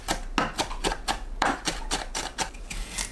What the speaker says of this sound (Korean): 청양고추, 홍고추는 씨 빼고 작게 썰어줍니다.